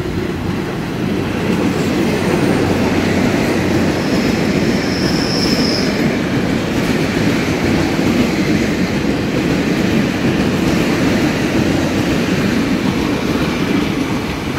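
A DR2800 diesel multiple unit Tze-Chiang express, nine cars long, passes close by, a loud continuous roar of engines and wheels on rail sustained for the whole pass with a brief high squeal early on.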